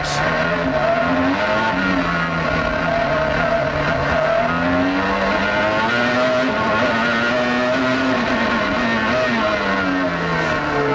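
A Formula One race car at the 1995 Brazilian Grand Prix screams at high revs, its loud engine note rising and falling through gear changes and corners without a break.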